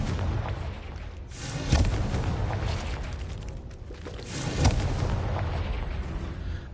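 Confringo fire spell from the video game Hogwarts Legacy, two booming blasts a few seconds apart over a rumbling, crackling game soundscape.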